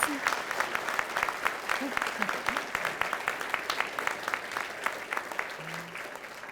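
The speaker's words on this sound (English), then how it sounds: "Please join me in another round of applause" An audience at an elementary school building dedication applauds throughout, steady moderate clapping with a few voices faintly audible beneath.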